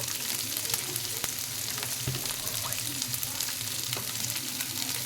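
Soybean chaap pieces frying in ghee, a dense, even crackling sizzle with occasional sharp pops and light stirring ticks, close and steady throughout.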